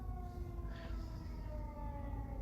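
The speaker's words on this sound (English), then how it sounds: "There's another siren." An emergency siren passes outside, steady and faint at a distance, wailing under a low background hum with no talk over it.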